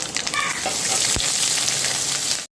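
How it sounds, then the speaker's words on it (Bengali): Grated ginger fries in hot oil in a pan already holding tempered spices and black mustard seeds for lau shukto, a bottle gourd dish. A steady, loud sizzle runs unbroken from start to finish, with a few faint clinks over it. "আদাটা আমি ভালো মতো করে ভেজে নিচ্ছি"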